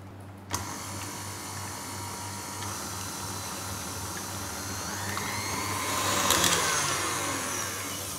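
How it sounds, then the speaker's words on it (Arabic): A stand mixer fitted with the paddle attachment beats egg, vanilla and butter into cookie dough, a steady close motor whir and grind that starts abruptly and swells slightly near the end, no talking. "هثبت مضرب التقليب وأشغل لغاية ما تختلط عندي هالمكونات مع بعضها"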